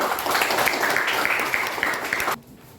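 Classroom students clapping their hands together in a brisk burst of applause that fills the room for about two seconds and then stops abruptly.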